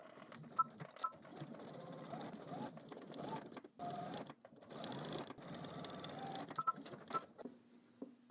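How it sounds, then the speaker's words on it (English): A sewing machine stitches a zipper fly on a pair of pants made from Simplicity pattern 9714. Runs of rapid, even needle hammering come in bursts with short pauses, and a few faint beeps and clicks sit between them. "So now I'm going ahead and put my needle in, and we're just going to stitch all the way up."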